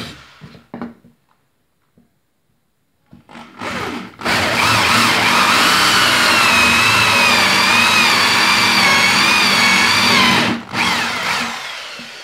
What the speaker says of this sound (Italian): andiamo a fare i due fori con una tazza passanti su questi due pezzi